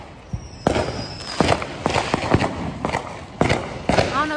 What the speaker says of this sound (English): We walking outside, watching the fireworks.